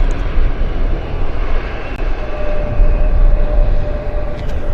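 Airplane landing at Vancouver International Airport (YVR), a loud, steady jet engine roar with a faint whining tone, heard from nearby on a calm day without talking.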